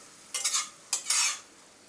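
Cabbage sabzi being stirred as coriander is mixed in, two short bursts of a spatula scraping and tossing the vegetables in a pan, close and crisp, with quiet gaps.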